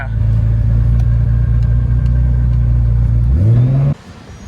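Nissan R32 GTR engine droning steadily at a constant pitch while driving, then revving upward near the end before cutting off abruptly into quieter road and cabin noise.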